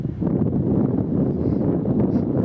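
A strong, bitter wind sweeps across open arable farmland near Gunton in Norfolk and buffets the microphone in a loud, continuous low roar, with no voices.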